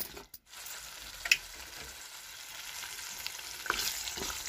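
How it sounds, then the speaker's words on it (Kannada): Tomato chutney bubbles in oil in a pan, a faint continuous sizzle with a few sharp pops and clicks, with no speech. "ನೋಡಿ, ಈಗ ನಾವು ಮೇಲೆ ಎಣ್ಣೆ ಹಾಕಿದ್ದೀವಲ್ಲ ಇದರಲ್ಲಿ ಚೆನ್ನಾಗಿ ಕುದಿಬೇಕು"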